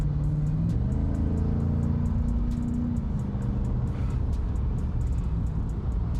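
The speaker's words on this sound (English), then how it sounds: "That exhaust note definitely sounds good." A 2024 Chevy Silverado ZR2 Bison pickup with active exhaust idles and rumbles steadily nearby, its deep low engine tone swelling briefly as it revs, over light background noise with no talking.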